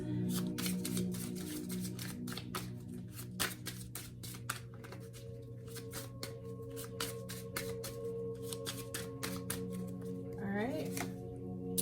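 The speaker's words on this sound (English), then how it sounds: "Let's pull from this these Island Town Wellness cards and see what we can get from these on this" Island Town Wellness oracle cards are shuffled and pulled in a rapid run of crisp riffling flicks and taps, close and continuous, while a voice talks over them.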